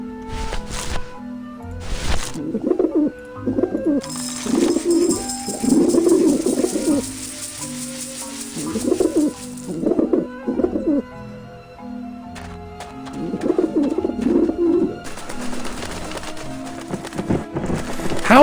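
Pigeons coo repeatedly in a game scene from Grim Fandango, soft throaty bursts recurring in clusters over a steady background bed, with occasional light clicks between them.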